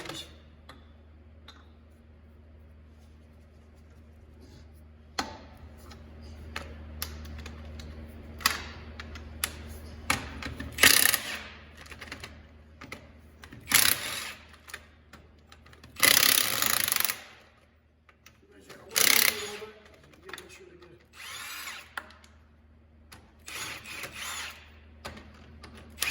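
A cordless Makita impact wrench spins off 19mm lug nuts on a 2008-2012 Chevy Malibu, several loud rattling bursts of a few seconds each, separated by quieter handling and shop noise.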